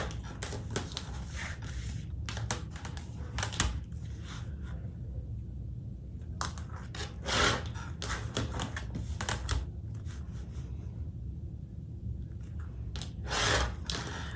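Cork fabric pieces for a wallet being cut with a rotary cutter or scissors, producing quick bursts of crisp, close cutting and scraping sounds separated by short pauses, over a quiet room with no talk.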